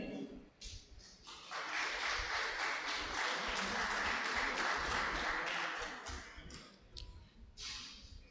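An audience at an economic forum and business roundtable in Beni gives a panelist sustained applause, building quickly, holding steady for several seconds, then thinning out into scattered claps.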